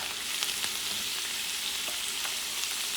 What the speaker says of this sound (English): now it's time to add the rice